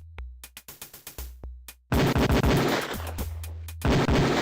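Beretta pistol shots on a firing range in the Police Quest 4 video game: about eight sharp, evenly spaced cracks, followed by a denser, louder stretch of overlapping gunfire. No voices.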